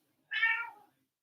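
A cat gives a single short, clear meow, close and alone in an otherwise quiet space, with a plaintive crying tone.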